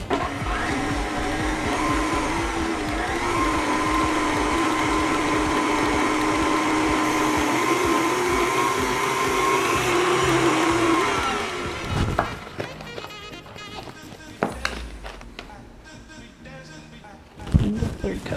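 Electric mixer beating cake batter, a loud continuous whir for about eleven seconds before it stops, followed by scraping, clatter and someone talking.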